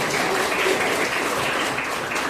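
Applause from a class after a Quran verse recitation in a school lesson, a dense, even patter of clapping that holds steady for a couple of seconds.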